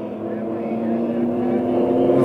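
Stock race cars at a Southwest Superlates winter race roar together on the track in a steady, loud engine drone that builds slightly, with a commentator talking over it.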